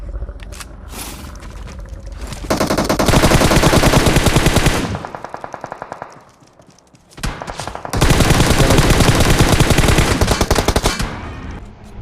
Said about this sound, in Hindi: मगर फाइट के दौरान पीछे से फायर हो रहा था